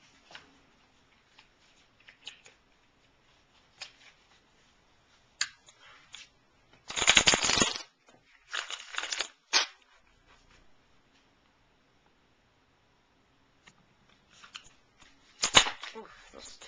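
Fenestra Tarot cards shuffled by hand, with scattered light taps and flicks, then loud bursts of riffling in the middle and again near the end, close and otherwise quiet.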